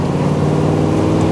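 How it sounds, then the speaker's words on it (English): A loud, close Spyker sports car engine rumbling steadily with a deep throaty growl, held at a high idle throughout the short moment. "the sound of this engine is music, pure music"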